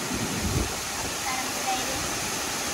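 Waterfall in Sungai Lembing, Pahang, Malaysia, giving a steady broadband rush of falling water that fills the whole clip at constant level, with no other clear sounds.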